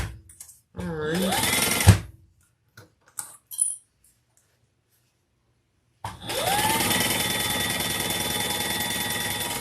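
Sewing machine running steadily as it bastes a leather piece, a loud continuous mechanical hum with rapid stitching ticks that starts after some earlier handling noises and a short pause.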